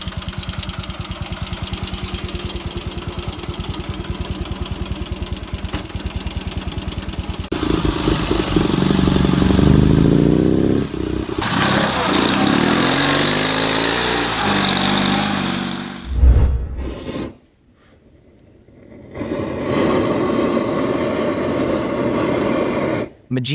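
A vintage vehicle's horizontally opposed boxer engine runs steadily, loud and close, with a rougher, busier stretch midway before cutting out briefly and starting up again.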